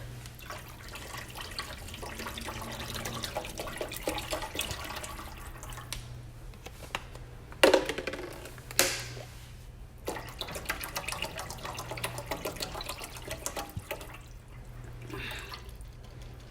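Tap water running into a cooking pot for pasta in a home kitchen, a soft steady flow with a few louder splashes and knocks partway through, no talking.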